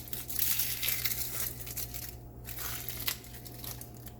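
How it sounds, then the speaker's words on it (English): A whole onion is peeled by hand in a kitchen, its dry papery skin crinkling, tearing and crunching softly in close, quiet bursts. "Now I can peel my onion."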